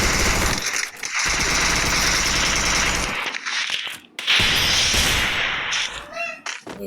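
Pistol gunfire in the Free Fire video game comes as dense, rapid, loud bursts of shots running almost continuously, broken by a couple of short gaps.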